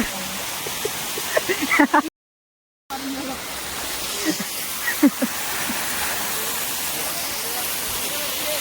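Heavy monsoon rain pours steadily at Matheran, a dense continuous hiss with a brief dropout, while a voice speaks faintly in the first seconds and again around the middle.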